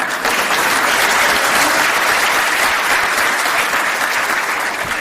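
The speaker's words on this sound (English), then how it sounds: "this is the part where you clap" Thick, continuous applause from a lecture audience on Islam, a loud wash of many hands clapping steadily for five seconds without pause.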